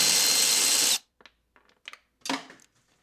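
A power driver whirs steadily for about a second as it backs out a Torx screw from the acoustic cover of a BMW N43 engine, then stops, followed by a few light clicks and taps of the tool and screw.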